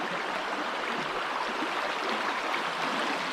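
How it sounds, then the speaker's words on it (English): A running river flows steadily at a campsite on Yadboro Flats, a constant broadband rush of water with no distinct splashes, heard up close and even throughout with no voices. "there's something about the sound of a running river like this"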